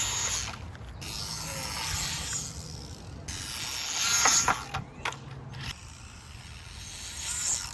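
A Hobby Plus Speck short course RC truck runs on dirt, its motor and gears whirring with a gritty mechanical grind, rising and falling with several sharper rattles and bursts mid-way; no one talks.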